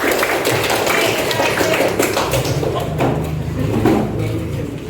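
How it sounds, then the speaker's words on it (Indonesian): Group of people clapping hands together in a classroom-style session, a steady loud patter of many hands with some voices mixed in. "mulai Pak boleh tepuk tangan untuk kita semua"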